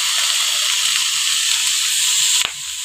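Soy sauce poured into a hot pan of chicken pickle hisses in a loud, steady sizzle at close range, then cuts off abruptly near the end with a brief clatter.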